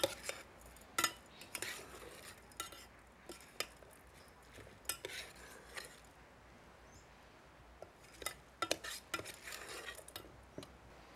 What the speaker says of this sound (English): After I mix the meat and the sauce together, again, I'm gonna taste them